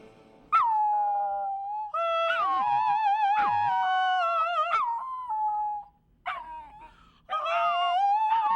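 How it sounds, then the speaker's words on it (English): A dog howls along with a woman singing opera, their long wavering notes rising and falling together in several sustained phrases separated by short pauses. "now Madison the Opera Dog with Miss Denise Graves singing the double O in the word croon"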